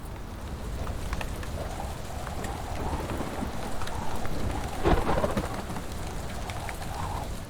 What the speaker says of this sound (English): This is a storm.